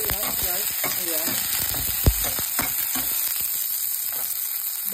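Garlic and onion crackle and sizzle in a hot pan, close and continuous, with short stirring scrapes and one sharp knock midway. Sardines and pechay are being cooked. A faint voice is heard at the start.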